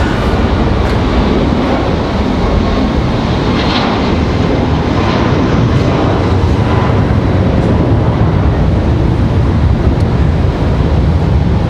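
A Boeing 737 MAX 9 roars down the runway on its takeoff roll at Raleigh-Durham International, a loud, continuous broadband jet rumble mixed with heavy wind buffeting on the microphone, holding steady throughout.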